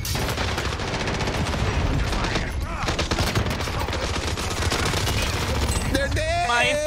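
Rapid gunfire bursts and explosions from the Call of Duty Warzone video game, loud and dense throughout with a brief lull near the middle and sharper shots at the end, with a voice talking over it.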